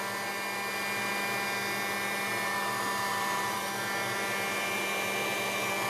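A hair dryer blows steadily and loudly on a thick mixed media paint layer on an MDF panel, a constant whirring hum that runs unbroken throughout with no talking.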